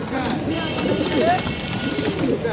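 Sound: pigeons at Tongi pigeon market

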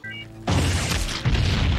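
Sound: movie explosion

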